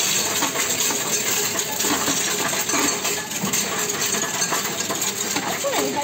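Coins pour into a Coinstar coin counting machine, making a dense, loud, continuous metallic clatter and rattle that runs without pause under a steady mechanical hum.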